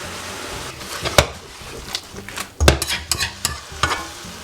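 Mushrooms sautéing in a pan for scaloppine ai funghi: a steady sizzle broken by several sharp spatula scrapes and knocks against the pan, close and irregular.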